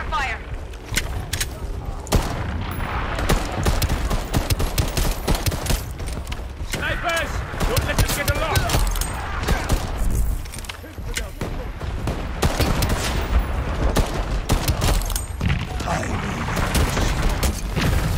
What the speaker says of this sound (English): I'll just keep launching rounds in.